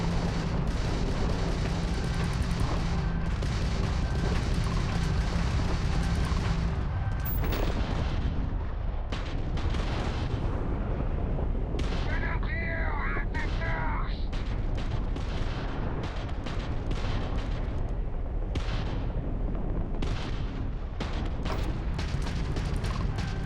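Rapid weapon gunfire and booming blasts from combat in the video game Starfield, loud and dense throughout, with a voice talking over the shooting.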